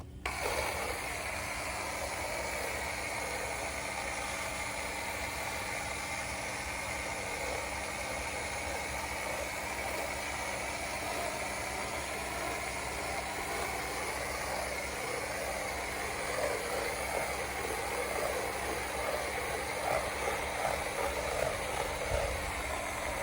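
A low-budget pressure washer sprays degreaser onto the outside of a house, a loud, steady hiss and motor drone running without break for over twenty seconds, with no talking.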